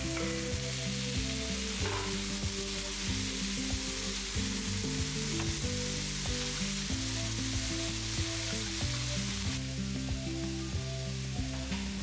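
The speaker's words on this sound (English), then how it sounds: "I'll then add coriander stalks and chopped tomatoes and cook till tomatoes soften." Onions, coriander stalks and chopped tomatoes frying in a pan, a steady close sizzle throughout with music playing underneath.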